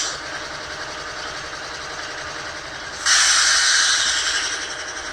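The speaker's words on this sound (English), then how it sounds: "F20 manually toggles on that compressor here" An ES44AC locomotive sound decoder's air compressor, a steady mechanical chugging hiss that kicks up sharply louder partway through and keeps running alone with no voices, on a ScaleTrains Rivet Counter model in Canadian National ex-CitiRail paint.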